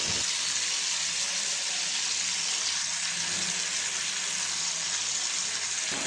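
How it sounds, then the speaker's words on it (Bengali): Rohu fish pieces frying in hot oil in a pan, a loud, steady, dense sizzle that holds evenly for about six seconds, close up with no talking. "মাছগুলো এক পাশ ভাজা শেষ, এখন উল্টাইয়ে নিতেছি অন্য পাশ ভাজার জন্য।"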